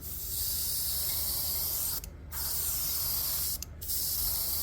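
Spray gun laying a full coat of paint over a simple design, a loud continuous hiss broken by two short pauses as the trigger is released.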